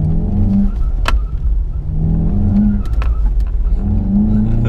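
A 2019 VW Golf GTI TCR accelerating hard around a tiny, tight go-kart-style circuit, its engine droning steadily and loudly close by with rising pitch sweeps and brief sharp transients.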